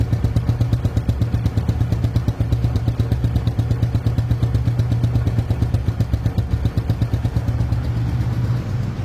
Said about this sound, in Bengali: রানিং অবস্থায় সাউন্ডটি শুনুন।